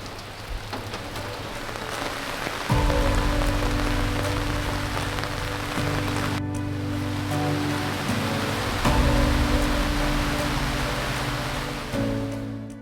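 Mountain rain falls steadily at a campsite beneath towering emerald ridges on Oahu, a dense, continuous close-up hiss that holds at an even loudness, with a faint low tonal hum running underneath and no voices.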